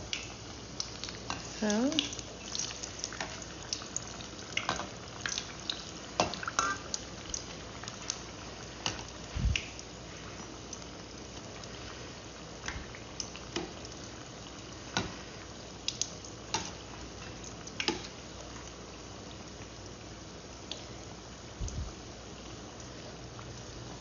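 Potato balls coated in chickpea flour fry as aloo bonda with a quiet, steady sizzle and occasional sharp pops and clicks, fairly faint throughout with a brief spoken word.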